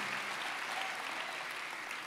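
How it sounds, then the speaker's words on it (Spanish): Congregation applauding during a Spanish-language church sermon, a continuous wash of many hands clapping at steady loudness, with no speech on top. "denle un aplauso al Señor, hermano"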